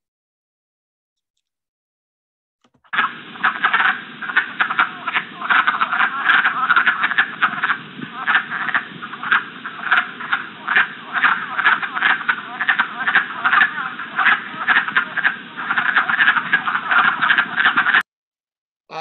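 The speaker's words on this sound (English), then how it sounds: "Another pretty early caller, generally the next frog we run across is the wood frog." A chorus of wood frogs in springtime Pinelands forest, steady overlapping duck-like clucking croaks in rapid pulses for about fifteen seconds, loud and close, starting and stopping abruptly, with a brief voice murmur near the end.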